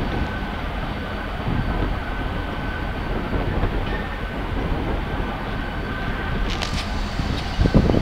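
A train rumbles steadily past a railroad crossing near an airport, a continuous close roar with faint clacking and a brief higher squeal toward the end, with no voices.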